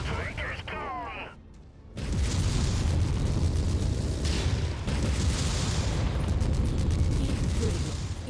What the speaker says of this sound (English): Petrol tank is gone.